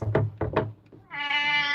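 A cat meows nearby, giving two short chirping calls and then a longer sustained meow, with a soft thump between them, in a room where free-motion quilting is done on a domestic machine.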